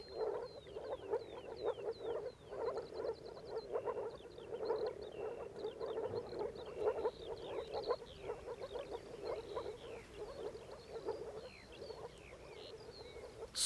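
A dense chorus of frogs in a mountain hay meadow croaks continuously in rapid, overlapping pulses, steady and fairly loud with no talking.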